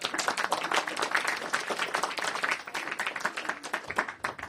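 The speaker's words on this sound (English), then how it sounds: "Let's welcome them with a big round of applause." Audience members at a school performance clap in welcome, a moderately loud, uneven patter of many individual hands that keeps going steadily, with some claps standing out sharply close by.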